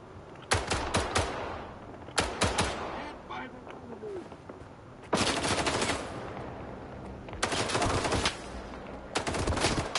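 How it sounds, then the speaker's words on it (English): Enemy gunfire in S.T.A.L.K.E.R. 2 cracks out in several short automatic bursts, sharp and fairly close, separated by quieter pauses with faint background noise. "Where are they shooting me from?"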